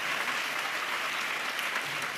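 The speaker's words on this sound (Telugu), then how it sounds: "చప్పట్లు కొడతా యేసయ్యకు స్తోత్రాలు చెప్తా" Steady applause fills a church congregation during a sermon, an even wash of many hands clapping at moderate level with no voices standing out.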